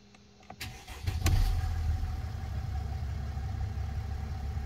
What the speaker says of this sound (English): So once we turn the engine off and then back on